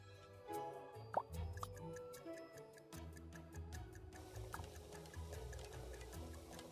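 Water is stirred in a pot in the PC game Desperate Housewives, giving faint plops and small splashes with a ticking, dripping texture at a quiet level, and no speech.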